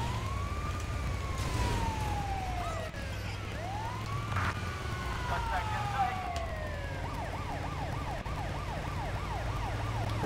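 Inside a video game, a police siren runs through long wailing sweeps and then switches to a quick warbling yelp, loud and steady over a low engine drone.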